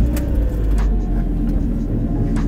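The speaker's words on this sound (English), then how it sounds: "So let me just switch the car on." A BMW E46 318ti Compact is switched on, its engine giving a loud, steady low rumble and idle throughout with a few brief clicks, recorded close by.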